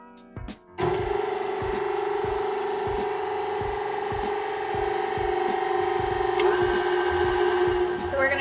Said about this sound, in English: We're gonna turn the mixer on here and we're just going to lightly whip the cream into soft peaks